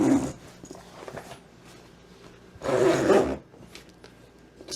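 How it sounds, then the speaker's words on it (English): A zipper on a survival suit run up and down a couple of times, giving two loud rasping bursts near the start and middle with quieter handling noise between. "we just did the zipper there, and we'll run it up and down a couple of times here"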